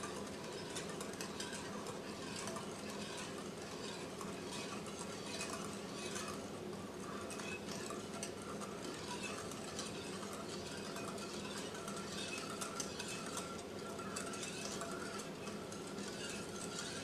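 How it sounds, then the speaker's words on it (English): A whisk mixes coconut ice cream ingredients in a bowl, a steady, continuous scraping and clinking that holds at an even, fairly quiet level throughout, with no talking. "With a whisk, mix all the ingredients until well blended."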